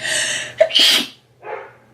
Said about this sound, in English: I almost sneezed in my palette